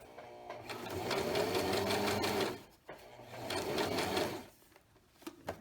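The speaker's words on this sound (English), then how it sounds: "I'm going to sew first in reverse just for a little bit, all the way to the end actually." A sewing machine stitches a tote bag in reverse, a close steady mechanical whirr in two long runs with a short pause between them, then a few clicks as it stops.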